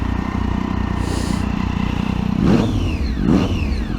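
A 2008 Triumph Daytona 675 sport motorcycle, exhaust without a baffle, idles with a lumpy rumble, then revs sharply twice in quick blips, close by.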